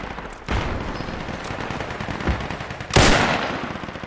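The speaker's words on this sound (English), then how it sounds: "There's a machine gunner somewhere on that map." Machine gun fire in the military shooter game Project Reality, sounding as rapid bursts of gunfire with two sharp, louder volleys standing out over continuous background battle noise.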